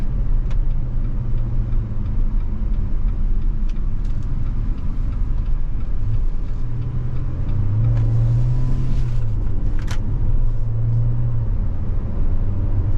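A 2023 Jeep Renegade Limited 4x4 turbo on all-season tires rounds a left turn, its steady engine drone and road rumble loud and continuous from inside the cabin, with a slight rise in engine pitch partway through.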